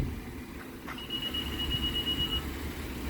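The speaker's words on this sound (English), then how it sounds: "The beeping is to indicate that the key has left the interior while the engine is running" A single sustained electronic key-out warning beep from a 2022 Honda Pilot rings out for over a second against a low engine hum, with the engine running.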